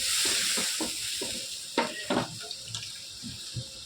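Water is poured into a hot pan of bottle gourd kofta curry, hissing and sizzling loudly at first, then settling into bubbling and splashing with intermittent stirring clinks nearby.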